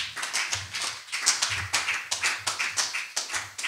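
A church congregation claps together in acclaim of the Lord, a steady, lively rhythm of many hands striking in repeated bursts, close and fairly loud, with no voices over it.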